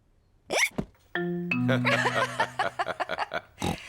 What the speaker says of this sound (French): Ça suffit, arrête d'avoir le hoquet.